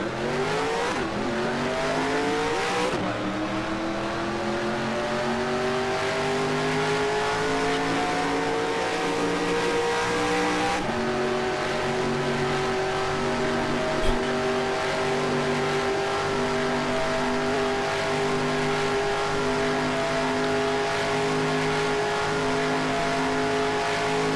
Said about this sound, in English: Blows tire, hits wall, overcorrects, comes back, spins out,